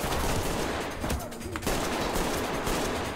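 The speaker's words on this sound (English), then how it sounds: "Oh shit, they're shooting at me, I think." Sustained gunfire in the tactical shooter game Ready or Not, a dense loud burst of overlapping shots with a short lull in the middle before firing resumes.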